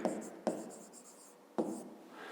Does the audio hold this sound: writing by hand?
yes